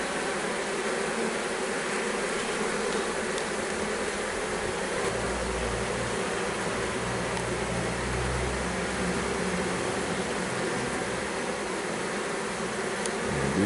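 Honeybees swarm during a hive transfer, their dense, continuous buzzing close and even throughout, with a faint low rumble underneath and no voices.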